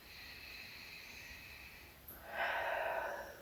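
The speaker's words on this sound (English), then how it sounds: "And have this last big breath here." A person draws one deep breath during a Pilates stretch on a ladder barrel. A soft airy inhale comes first, then a louder, fuller hiss of breath near the end, close and with no talk.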